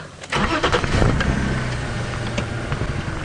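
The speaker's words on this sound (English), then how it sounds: "There's another car coming past me." A car passes close by on a dirt safari road during an early-morning game drive in Nhenha, its engine rising and fading steadily with no talk over it.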